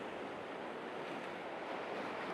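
Ocean waves washing through and over shoreline rocks, a continuous steady roar of surf with some wind buffeting the microphone, even in level and with no voices.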